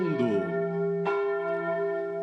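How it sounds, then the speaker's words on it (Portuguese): Church bells ring out with a bright strike at the start and another about a second later, their long humming tones sustaining loudly throughout with no talk over them. "ao som dos sinos que badalam nos céus do mundo"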